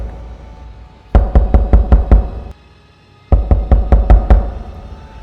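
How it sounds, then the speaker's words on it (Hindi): Knocking on a wooden door in two loud, close bursts of about five to six rapid raps each, separated by a short pause, over a faint background hum. "दरवाज़ा खटखटाने से खुली"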